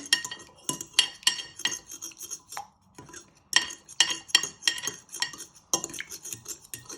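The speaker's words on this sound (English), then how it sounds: "And once you have cracked it, you want to give it a little whisk." A cracked egg being whisked with a fork or whisk in a bowl for hot cross buns, close rapid metallic clinking strokes in short bursts with brief pauses, no talking.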